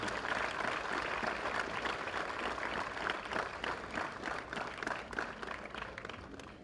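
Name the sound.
audience applause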